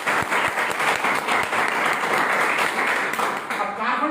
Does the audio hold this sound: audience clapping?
yes